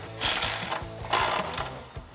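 A 13mm socket on a ratchet tightens exhaust bolts on a 2018 Mustang GT during a Roush axle-back install, giving two quick bursts of close, rapid clicking with rhythmic mechanical ticks between them.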